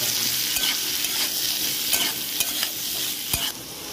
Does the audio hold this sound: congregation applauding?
no